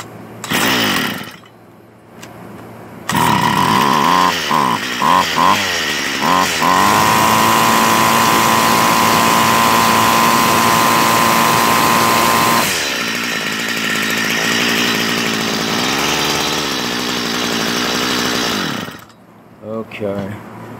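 Small gasoline engine with a fuel-flow problem being restarted: after a pull or two it catches and revs, then holds a loud, buzzing chainsaw-like idle before cutting out. A voice is heard briefly.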